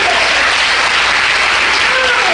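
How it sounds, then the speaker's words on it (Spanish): A Spanish-speaking church congregation during a Holy Week service bursts into loud, dense applause, a continuous roar of clapping that fills the whole clip, with a few voices and a faint tone threaded through it. "Dele un fuerte aplauso al Señor."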